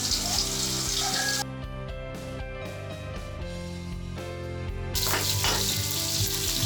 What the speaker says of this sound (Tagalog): next add cube cut pork belly with fats, then cover so that the cut cube pork belly is soft